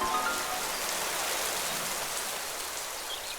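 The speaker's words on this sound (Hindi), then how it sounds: "अचानक ही मौसम बदला और मूसलाधार बारिश शुरू हो गई।" Heavy torrential rain pours down steadily in a dense, unbroken hiss, close and loud throughout with no voices.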